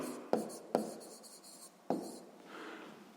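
Pen writing out a sixth-grade math solution, a few sharp taps and short scratchy strokes close up, quiet and intermittent with pauses between marks.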